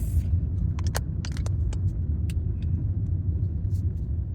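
A car drives along a road, heard from inside the cabin. A steady low engine and road rumble runs throughout, with scattered light clicks and rattles like jangling keys near the start, and no talking.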